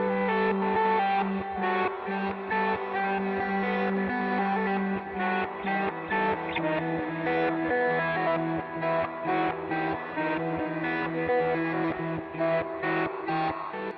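Dark, heavily processed guitar loop run through a Cymatics plugin for a Halloween beat, with distorted, echoing harmonic tones cycling in a steady rhythmic pattern, loud and continuous with no voices.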